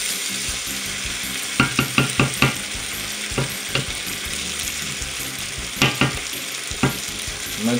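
Chicken curry frying in a pot while being stirred, with a constant sizzle broken by several sharp scraping clacks of the spoon against the pot, close and clear, with no talk.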